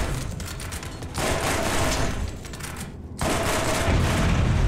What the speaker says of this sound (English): Thank God for this rifle, it's super accurate.